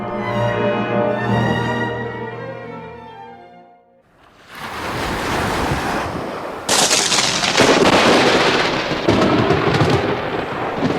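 A storm at sea sound effect for a children's story: a sustained tonal opening fades out and gives way to loud, broadband roaring surf and crashing waves, swelling stronger and rumbling like thunder toward the end.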